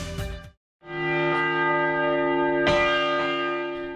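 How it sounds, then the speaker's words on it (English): A church bell rings with a loud, resonant strike after a brief opening sound, its tone sustaining and humming, then a second strike rings out. "The sound of bells is the soundtrack of life."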